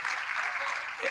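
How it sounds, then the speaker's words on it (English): Applause from an audience at a speech event with Dr. Yunus, a dense continuous wash of clapping filling the whole short stretch, steady and fairly loud. "Let's give a big applause to him"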